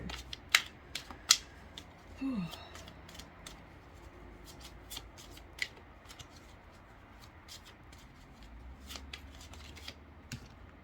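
Tarot cards are shuffled and handled in a quiet room, giving soft papery riffles and several sharp slaps and taps spread across the clip, with faint low background noise.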